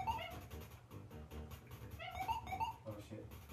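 In the arcade game Alley Cat, a dog wakes up with a short run of chiptune-style yelps and whimpers. The yips come in quick, faint bursts over background game tones.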